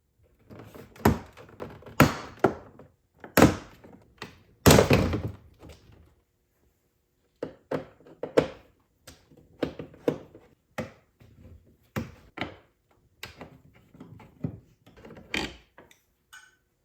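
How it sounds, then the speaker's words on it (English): A long series of sharp plastic pops and snaps as a plastic pry tool pops clips off a car door panel, irregular and close, in clusters with a short pause partway through, no voices. "use your plastic pry tool to make your way around the door and pop off all the clips"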